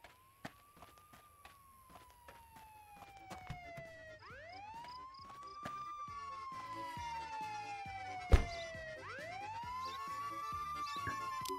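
Police car siren in the video game Contraband Police, wailing up and down in long sweeping cycles with a brief yelp burst, clear and steady over faint game clicks and a single sharp thump.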